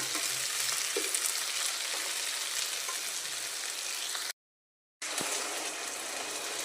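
Large onions sauté in an oil-filled pan for kurma, a steady close sizzle with occasional stirring scrapes, broken by a short silent gap before the frying resumes.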